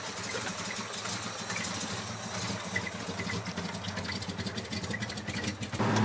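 A Chrysler Valiant engine idles after a cold start with a steady, lumpy rumble and loose rattling from the vibrating bonnet, close and continuous.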